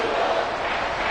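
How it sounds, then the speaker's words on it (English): Dense, steady roar from a large football stadium crowd during a Falcons vs Eagles game, loud and continuous with no breaks. "This crowd turning up the decibel level."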